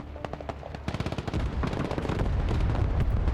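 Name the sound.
enemy artillery fire in video game Broken Arrow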